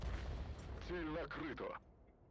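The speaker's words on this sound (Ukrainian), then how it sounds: "Є 100 стріляє фугасами" A World of Tanks E 100 heavy tank fires a high-explosive shell: a loud, deep boom rolls out at the start, and a voice talks over the fading rumble.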